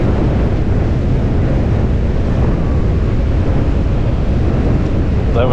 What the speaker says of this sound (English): it's so windy I can hardly even put my shovel where I want it